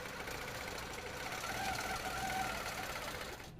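A sewing machine runs steadily, stitching a quilt along a ruler template with a continuous close mechanical whir and rapid needle chatter, ending abruptly as it stops.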